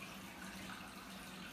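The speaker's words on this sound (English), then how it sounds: "I put a little bit of my filtered water" Filtered water poured from a tap into a bowl while making a beet salad, a soft steady faint stream running without pause.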